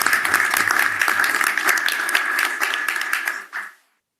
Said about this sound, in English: So we like to present her with just a hand clap to congratulate her.